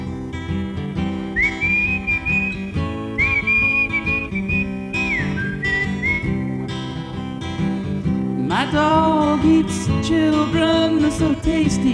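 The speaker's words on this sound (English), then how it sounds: "Starts out with a whistle and everything." A melodic whistled tune carries over steady instrumental accompaniment, with brighter, busier music taking over near the end.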